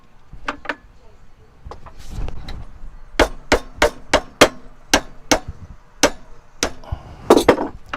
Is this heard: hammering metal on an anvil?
yes